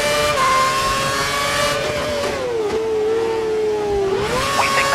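A Formula 4 race car engine screams at high revs during an Australian race, a steady whining tone that dips slightly and climbs again, heard continuously at close range with no talking.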